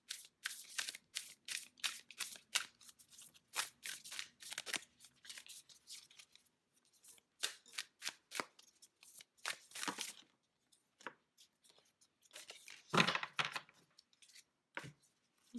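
Tarot cards being shuffled, close up and crisp: bursts of riffling and snapping card flicks in uneven runs, separated by short quiet pauses, with no one talking.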